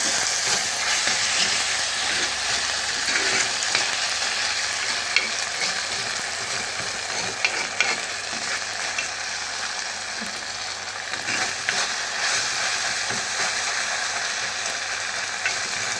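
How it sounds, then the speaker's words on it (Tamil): Tomato soup ingredients sautéing in a pan, a steady close sizzle and crackle with occasional stirring scrapes, continuous and fairly loud throughout with no talking. "வதங்கிட்டுருக்கு. நல்லா வதங்கணும்."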